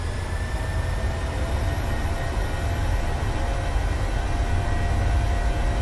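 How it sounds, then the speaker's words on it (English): Simulated twin jet engines of a PMDG 737-700 in Microsoft Flight Simulator roar at takeoff power, a steady, loud, deep rumble with broadband hiss that holds unchanged throughout, with no voices. "Takeoff power set."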